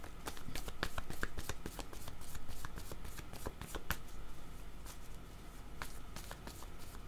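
Tarot cards are shuffled and drawn for a reading, making steady papery riffling and slapping close by, with soft snapping flicks as cards are handled and laid down.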